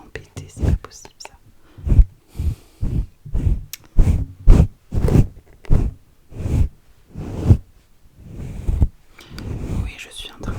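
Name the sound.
brushing the microphone with a hairbrush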